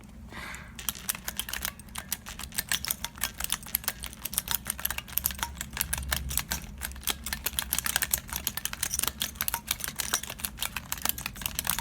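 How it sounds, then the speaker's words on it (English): Fast continuous typing on a squishy Sprite-themed mechanical keyboard whose spacebar has been glued, producing dense close clicks and clacks in a busy, uneven rhythm throughout, with no talking. "do some typing before it completely falls apart."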